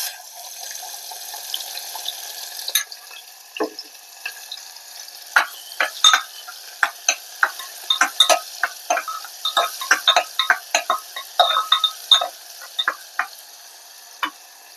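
Mustard seeds, cumin, asafoetida and finely chopped onion sizzle in hot oil for a Maharashtrian yam curry, with steady frying hiss and a dense run of sharp seed pops and crackles, close and fairly loud, with no talking.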